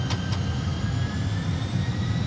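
Airbus A320 engines spool toward takeoff thrust as a steady, dense roar with a low rumble and a faint high whine, heard close and continuous.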